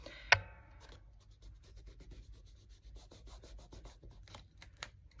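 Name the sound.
finger rubbing ink along paper edge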